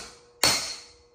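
A hammer strikes a 3/8-inch extension placed against a Sea-Doo supercharger wheel. One sharp, close metallic tap rings out and decays over about a second, with no talking.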